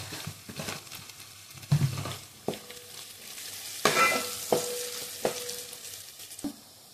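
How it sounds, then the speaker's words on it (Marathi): Garlic and turmeric fry in oil over a wood-fired stove with a soft, steady sizzle. Sharp stirring clacks and scrapes come at irregular intervals, and no one speaks. "लसणाला चांगला असं ना गोल्डन होईपर्यंत फ्राय करून घ्यायचं"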